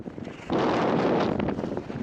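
Strong gusts of wind buffet the microphone on the summit of Sheffield Pike in extreme weather, a loud roaring rush that surges abruptly after a quieter start and stays heavy throughout.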